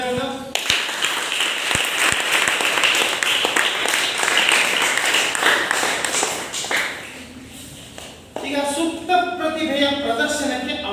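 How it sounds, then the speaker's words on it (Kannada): A crowd claps in a dense burst of applause for several seconds, which fades out before a person starts talking. "ಬೇರೆ ಕಡೆ ಚಪ್ಪಾಳೆ"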